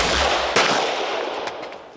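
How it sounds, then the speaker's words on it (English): A single loud, sharp gunshot fired at a pistol held in a hand in a shootout position, outdoors, followed by a decaying echo and a few faint impact clicks. "Shooting a gun out of a hand in a shootout position."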